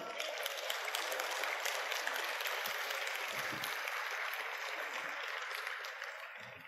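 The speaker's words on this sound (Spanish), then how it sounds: "Fuerte aplauso." Loud, sustained applause from a church congregation fills the space as a steady wash of clapping, continuing evenly throughout with no speech over it.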